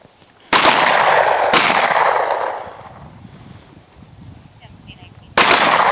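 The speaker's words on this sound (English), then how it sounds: "Press straight out, prep that trigger, and pop one off." Pistol shots crack loudly on a range during a private shooting class: one shot early, another about a second later, then quieter ambient sound and a third sharp shot near the end, each with a ringing tail.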